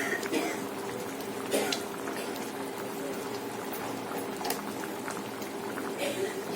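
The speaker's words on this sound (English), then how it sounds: "So my fish gravy have started to boil." Spicy, tangy fish curry gravy without coconut, Alappuzha style with curry and coriander leaves, bubbling at a steady boil in a pot, a dense close burble of popping bubbles with a few louder plops throughout.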